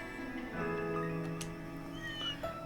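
Soft meows from cats in the video game Trails Through Daybreak II, heard faintly over a steady musical background, with a couple of short mewing calls spread across the moment.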